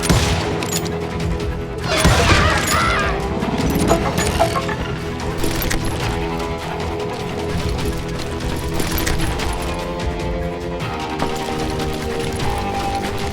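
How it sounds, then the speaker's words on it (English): Gunfire crackles through a street shootout in the Western video game Call of Juarez Gunslinger. Dense, loud volleys of shots and cracks run continuously over a layered game soundtrack. "They're shooting in the street!"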